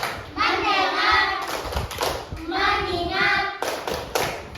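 Children in a classroom alternate group chanting with brisk patterns of hand claps, with claps landing between two sustained choral phrases, all close and fairly loud.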